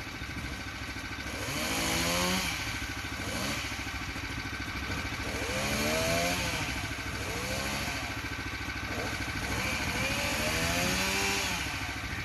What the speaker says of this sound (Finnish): Saha lähti käymään vielä, kun se käy tasaisesti.